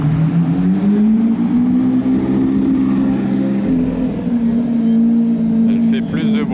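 A supercar engine roars loudly past during the Monaco Grand Prix, a steady droning growl with rising and falling pitch, while a person talks over it.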